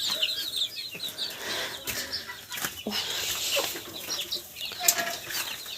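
Cochin hens cluck softly and scatter bursts of wing flapping in an outdoor run on a hot day, close and busy throughout with overlapping calls.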